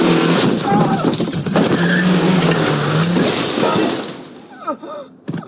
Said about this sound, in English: they crash almost immediately